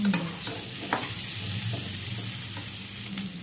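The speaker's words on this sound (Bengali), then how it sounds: "এখন আলুটা দিয়ে দেব" Potato pieces fry with cumin in a pan, a soft continuous sizzle broken by a few light stirring scrapes, close up and fairly quiet, with no talking.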